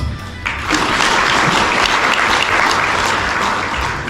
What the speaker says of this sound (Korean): 오늘 수상하신 모든 분들 진심으로 찬사와 축하의 박수를 보내드립니다.